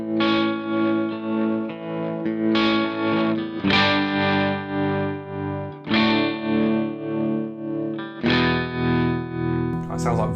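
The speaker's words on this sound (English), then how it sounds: "That sounds like volume swells at this point." Guitar chords through a Vox AC30C2 with tremolo at slow speed rise and fall in broad volume swells, each new strum blooming and ebbing over a couple of seconds, with a faint effects wash.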